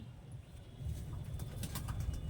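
High-quality flying pigeons, an Abluk and Dowaj pair, making low soft cooing murmurs close by, with faint chirps and a light flutter over a steady rumble of background noise.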